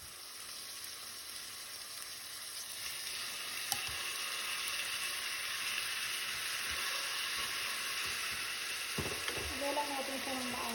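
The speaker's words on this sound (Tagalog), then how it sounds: "continuous lang natin itong isute hanggang lumabas yung aroma ng ating mga ingredients" Chicken and aromatics sauté in a pan for chicken adobo. A soft, steady sizzle hisses throughout at low level, with a faint clink midway and some utensil clatter near the end.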